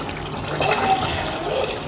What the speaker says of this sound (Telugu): మా మదర్ అయితే ఒక హాఫ్ గ్లాస్ వాటర్ అయితే యాడ్ చేశారు